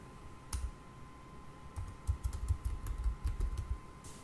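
Quiet typing on a computer keyboard while filling in a sign-up form: one isolated keystroke, a pause, then a burst of soft, quick clicks. Close, faint and alone.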